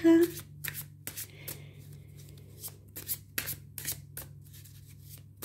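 Witch-themed tarot cards being shuffled by hand, a run of crisp riffling bursts and soft slides at close range over a low steady hum, with no talking.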